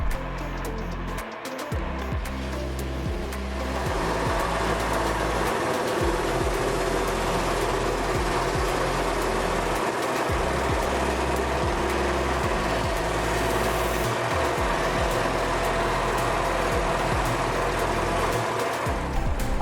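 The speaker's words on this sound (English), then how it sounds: "we will clean the edges by sanding using the sander machine" An electric sander works the edges of wooden catamaran hull pieces with low-grit paper, a steady close motor whir and grinding hum running continuously after a brief start, pausing only momentarily.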